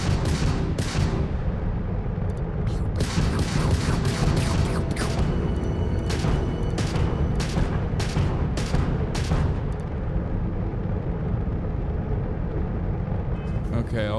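Rapid gunfire bursts in the space game Starfield, a series of sharp shots firing in quick clusters over a constant loud rumbling game soundscape, with someone talking.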